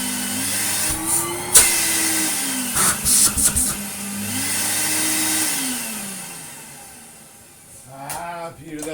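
An Electrolux Lite Z1820 vacuum cleaner runs after a repair with a loud, steady motor drone and shifting pitch, with clicks and handling noises, winding down near the end.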